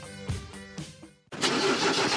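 A diesel car engine cranks with a few labored turns, pauses briefly, then catches and roars to life into a loud, steady running rumble, close by.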